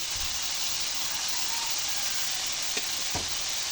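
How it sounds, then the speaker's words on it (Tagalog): Chicken sautés with onion, garlic and plenty of black pepper in a pan, giving a steady dense sizzle with a couple of faint utensil knocks near the end and no talking. "Hinisa natin sa sibuyas at saka bawang na maraming paminta."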